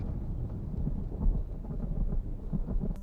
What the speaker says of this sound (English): I love the thunderstorm sounds queued up whenever something revealing or threatening is said.